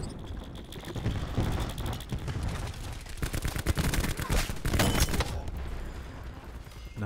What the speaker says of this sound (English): Bringing sentry online. Hopefully that sentry gun can do something.